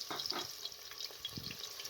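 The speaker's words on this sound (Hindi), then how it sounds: "जैसे ही ऑयल गर्म हो जाए तो इसके अंदर प्याज को डाल दें।" Onions hit hot cooking oil in a pressure cooker, giving a soft crackling sizzle with light spatters and small clinks, close and fairly quiet, with no talk.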